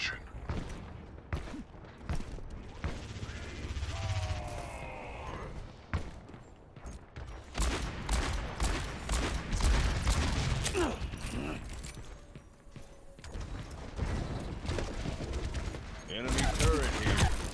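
An enemy turret fires in Overwatch, with rapid repeated bursts of automatic gunfire, mechanical clanks and in-game voices over a continuous battle din.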